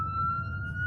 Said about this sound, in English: Ambulance. Sirens ablaze.